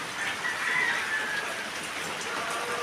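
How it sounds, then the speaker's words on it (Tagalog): Steady rain falls on a terrace during monsoon weather, a continuous even hiss that fills the whole stretch with no clear individual drops, moderately loud and alone. "patuloy pa rin po nga ang pag-ulan."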